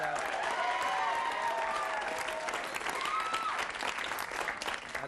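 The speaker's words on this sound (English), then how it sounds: "If you're watching in Oregon, we're applauding." A studio audience applauds in a steady, full burst of clapping that stays dense and even throughout, with a few faint whoops rising above it.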